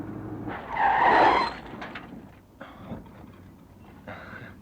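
A truck brakes hard at night and skids to a stop, with a loud tire squeal that swells and fades, then a few softer thuds and rustles as it settles.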